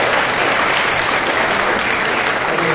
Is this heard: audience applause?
yes